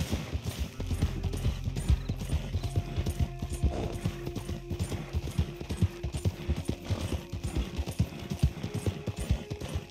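Rapid, steady clip-clop of galloping hooves in Red Dead Redemption 2 runs throughout over a low rumbling background, with a brief horse whinny partway through.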